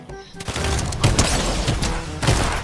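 Gunfire from a Fortnite match rings out as a dense, continuous stretch of shots and blasts, loud and filling the whole moment, with game noise layered beneath.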